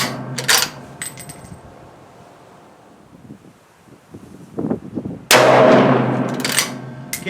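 A Ruger American rifle firing Hornady American Gunner 7.62x39 123 gr hollow-point rounds at an outdoor range: a few sharp, loud cracks several seconds apart, with wind rumbling against the microphone in between.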